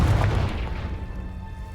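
A Confringo blasting spell explodes in the Hogwarts Legacy video game, a single deep, loud boom that rumbles and fades over under two seconds, with no talking.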